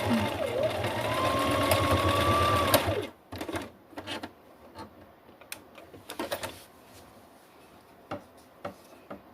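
Sewing machine running a straight stitch through fabric, a loud close continuous whirring for about three seconds, then stopping, followed by faint handling clicks and rustles.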